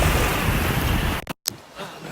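Ocean waves wash and rumble at a beach under wind noise, then a brief dropout cuts the sound before a quieter surf continues.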